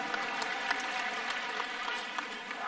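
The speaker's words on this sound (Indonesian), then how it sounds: "Beri tepuk tangan untuk seluruh jajaran Amanat Indonesia." Applause from a crowd of volunteers at an Indonesian political speech, a fairly quiet, continuous patter of many hands that holds steady throughout.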